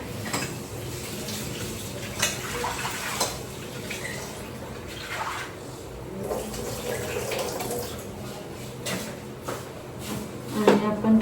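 Tap water runs steadily into a kitchen sink as vegetables are washed, a continuous close splash with occasional light clinks of dishes and faint background voices.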